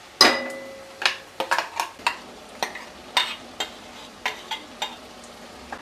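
Ground masala paste and spring onions being sautéed in a pan for a prawn and drumstick curry, with a faint sizzle under a series of sharp spatula clinks and scrapes at irregular intervals, no one speaking.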